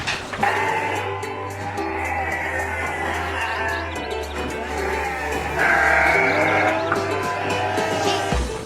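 Sheep at a sheep farm bleat repeatedly, several overlapping calls near and far, over a steady low background hum with faint bird chirps mixed in.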